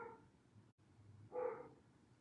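Faint dog barks or yips, one at the start and a stronger one a second later, distant and muffled over quiet background.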